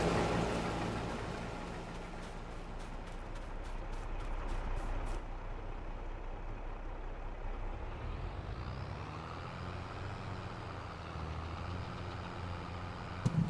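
A truck in a farming video game drives along with a continuous engine drone and a hiss like an air brake, the engine note shifting lower partway through, with no talking.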